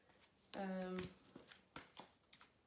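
A deck of matte cardstock tarot cards being shuffled close up: one long riffle with a ripping flutter, then several short taps and squares of the deck, with a soft voice speaking briefly alongside.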